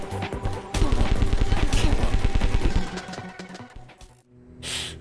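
Gatling gun fire in a video game rattles out as a loud, fast, unbroken burst of rapid shots lasting about two seconds, then trails off into quieter game noise.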